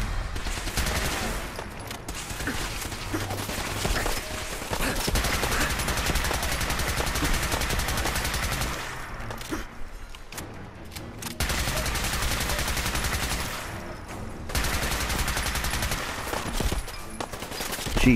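Modded weapons in Fallout 4 fire in dense, loud bursts of rapid automatic gunfire, sustained volleys with brief pauses between them, no speech over the shooting.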